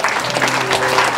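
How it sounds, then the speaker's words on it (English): Audience applause at a concert for Julian Assange at the Gaelic Club in Sydney, a steady patter of clapping filling the room with faint voices mixed in. "Let's give them a big round of applause."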